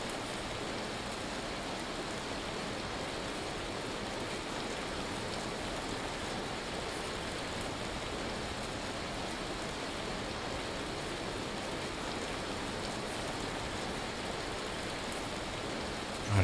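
Hail pelting down in the survival game Vintage Story, a dense, steady hiss like heavy rain that stays loud and constant throughout with no other sounds breaking through.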